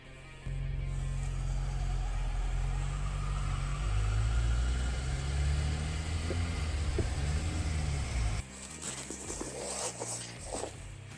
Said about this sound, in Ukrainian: Пробуємо розігнатися до 20 км на годину.